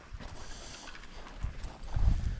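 Horse loping in a small round pen, hoofbeats thudding in a steady three-beat rhythm that grows louder and closer toward the end, with no talk over it.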